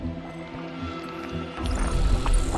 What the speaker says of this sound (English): This gland is secreting the cryogenic fluid that's freezing the water.